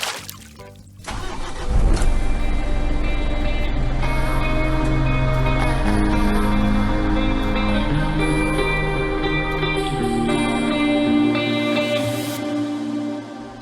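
A Toyota Troopy's engine runs steadily after pulling into a paddock, a loud, continuous low rumble with tonal hum that swells in after a brief start and holds throughout, no voices present.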